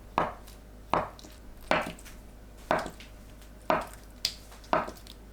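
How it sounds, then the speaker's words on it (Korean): Knife chopping green onions on a board, six crisp thuds at an uneven pace, close and clear with no talking. "쪽파를 2cm에서 3cm 길이로 썰어주세요."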